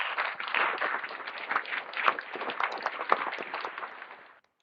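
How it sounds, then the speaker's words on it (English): Applause sound effect played back by a presenter: dense, continuous clapping and cheering from a crowd for about four seconds, steady then fading out at the end, with no talk over it. "Let me see if I can give you the applause here"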